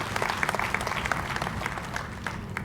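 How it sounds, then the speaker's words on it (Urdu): An audience at a hotel event in Lahore applauds the organizing members, brisk steady clapping at moderate distance with a few sharper individual claps standing out, continuing for a few seconds. "ان کے لیے تالیاں بجائیں گے"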